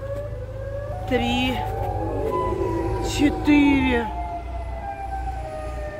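A Siren Head siren in a horror video game wails in rising and falling harmonic sweeps, loud and near, repeating in bursts over a steady low drone while a voice counts in Russian.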